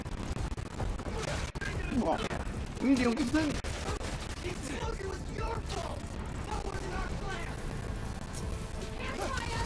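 Gunfire crackles in rapid bursts with booming explosions in the video game Marvel's Spider-Man: Miles Morales, while someone talks excitedly over the action.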